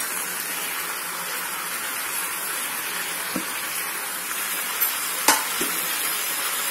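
Red chillies fry in a pan for a tomato chutney, giving a loud, even sizzle that holds steady, with a couple of sharp clicks near the end and no speech.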